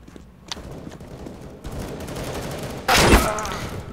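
Gunfire in Counter-Strike: GO, with a few faint early shots and then a loud close burst near the end over a low game background.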